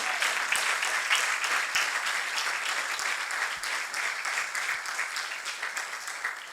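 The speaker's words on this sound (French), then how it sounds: "Allez, oui, vous pouvez acclamer Dieu." A church congregation cheers and applauds God, dense sustained clapping with scattered voices filling a hall, steady and loud for the whole stretch before gradually thinning slightly.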